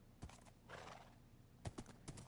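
Video game horse sounds: a soft run of clip-clopping hooves and a whinny, quiet and close, with a few sharp hoof knocks near the end.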